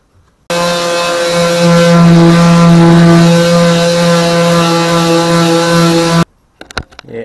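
Electric sander working paint off the steel boot floor of a Classic Mini, a loud steady buzzing drone starting abruptly and running about six seconds before stopping, followed by faint handling knocks.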